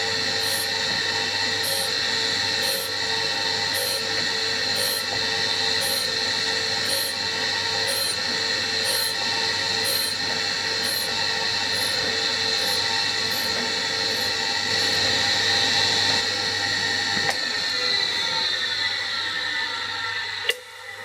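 A grinding machine works steadily on a part from a slotter rebuild, a continuous loud whining drone with high rhythmic ticking as the table travels back and forth, tapering near the end.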